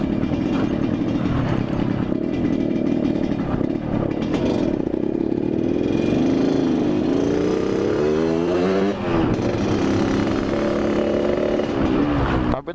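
Loud, close motorcycle engines, a Yamaha RX-King two-stroke and a Kawasaki KLX, revving hard in a rising and falling whine with raspy exhaust crackle over busy street noise.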